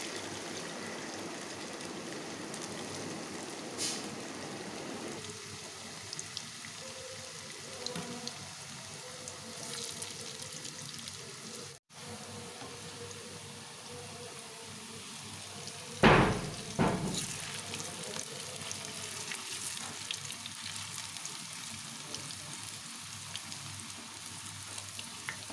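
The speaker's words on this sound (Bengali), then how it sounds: "একবারে সমস্ত ধোকাটা ভাজা যাবে না, তাই আমি এটা দুবারে ভেজে নেব" Dhoka lentil cakes fry in a pan over a medium gas flame, giving a soft, steady sizzle with a couple of brief clatters partway through.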